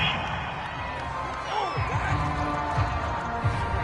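A home stadium crowd in the video game Madden 22 cheers and roars after a called penalty in a Washington versus Dallas football game, a steady wash of distant crowd noise with a few thuds and swells.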